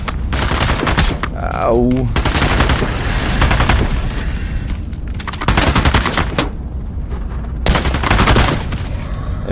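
Gunfire in the game Into the Radius 2, with several sharp shots and short bursts at close range spread across the clip, and a player speaking briefly in between.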